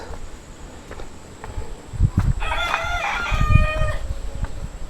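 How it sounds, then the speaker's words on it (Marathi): A rooster crows loudly and close by, a long drawn-out call in the middle, with a few clucks and low thumps around it. "कोंबडी कोंबडी"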